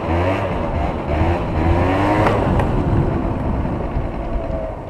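A modified scooter engine with a Débridé Pro kit and Vario transmission revs loud and close, a dense buzzing drone that rises and falls throughout.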